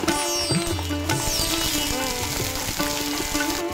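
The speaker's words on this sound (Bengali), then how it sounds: "ফোড়ন খুব ভালোভাবে হয়ে গেছে, এরপর এড করে দেব কুঁদরি।" Ivy gourd (kundri) hits a hot oil tempering and fries with a continuous sizzle, overlaid by tonal background sounds and a few utensil knocks.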